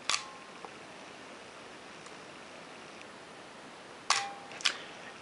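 Crisp mechanical clicks from a Nikon FE camera shutter during an 8-second exposure, one sharp click at the start, then a pair of clicks closing it about four seconds later, over quiet room hiss.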